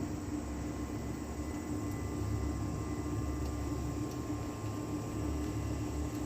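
Steady broadband hum of an air conditioner running nearby, constant and fairly loud with a low droning tone throughout, no voices.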